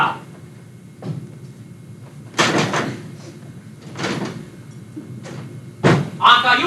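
A door thudding and slamming shut several times indoors, heavy close knocks spread across the moment amid a woman's agitated, raised voice.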